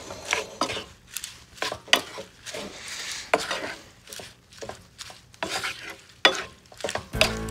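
Arugula is stirred into a finished sauce in a pan for ravioli, with repeated scraping stirs in an irregular rhythm over a soft, steady sizzle, close and clear.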